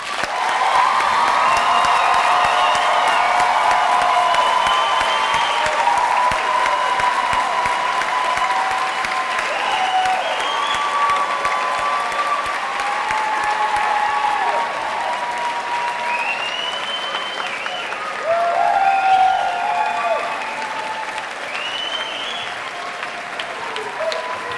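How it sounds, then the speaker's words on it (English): A large high school graduation audience applauds the graduating class, sustained clapping with scattered cheers and whoops running for over twenty seconds, steady and full, swelling briefly near the end. "So once again, a round of applause for our class."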